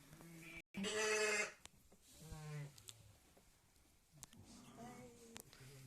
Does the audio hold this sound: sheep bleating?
yes